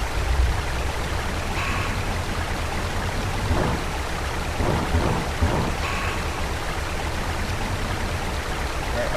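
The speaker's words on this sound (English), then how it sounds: "Now it's raining." Rain falls steadily in the SNES fishing game Bassin's Black Bass as a constant, dense hiss, with a few faint low rumbles and brief tonal game sounds layered in.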